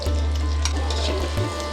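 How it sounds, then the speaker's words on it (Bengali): Onions fry on a clay stove with a close, continuous sizzle over a deep, steady low rumble from the fire. "পেঁয়াজটা প্রায় ভাজা শেষের দিকে,"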